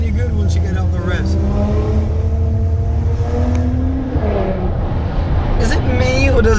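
A Maserati Ghibli S GranSport engine rises and revs on the road leaving Monaco, with a loud, continuous exhaust note climbing in pitch as a voice talks over it inside the cabin.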